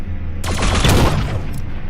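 Loud, close gunfire from a first-person shooter game, The Signal From Tölva: a rapid burst of shots rattling for about a second over a constant rumbling background, with no voices.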